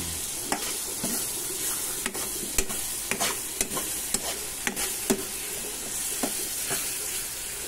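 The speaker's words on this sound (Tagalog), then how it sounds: "Haluin natin." A utensil stirs sautéed tomatoes in a sizzling frying pan, its strokes scraping the pan in a steady rhythm of sharp taps over a constant close fry.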